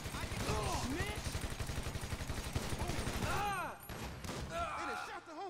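A sustained gunfight in GTA V, with pump shotgun blasts among a dense, rapid volley of shots that carries on loudly before easing off near the end.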